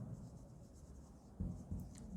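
A marker or chalk scratches across a board in a classroom, faint short strokes in quiet bursts, with a louder pair of strokes near the end and no speech.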